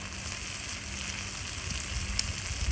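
Desi chicken hits a spice paste already fried down in oil in a pan, producing a steady, moderately quiet sizzle and crackle with small pops throughout.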